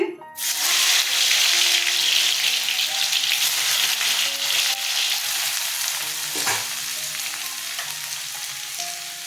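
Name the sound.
potatoes frying in hot oil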